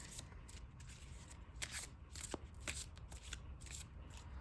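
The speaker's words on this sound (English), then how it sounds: "Let's get a quick shuffle going, and let's get this thing started." Trading-card-game deck cards are riffled and shuffled in quick repeated bursts of crisp flutters, close and fairly quiet.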